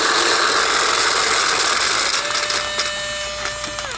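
Paintballs pour from a pod into a Spine speedfeed loader in a dense, clattering rush that thins into scattered plastic rattles and clicks as the last balls settle.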